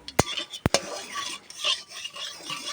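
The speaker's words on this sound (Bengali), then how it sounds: "একটু নেড়ে চুড়ে নেবো, ভালো করে নেড়ে চুড়ে নিলে ভালোই হবে। এই নেড়ে চুড়ে নিচ্ছি।" A spoon scrapes and stirs through prawn and cabbage curry with spices in a pan, with a few sharp metallic clinks against the pan among softer scraping.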